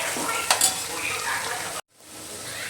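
Onions fry in a pan with a steady bright sizzle and a couple of sharp stirring clinks; the sound cuts out abruptly, then the sizzle returns more softly.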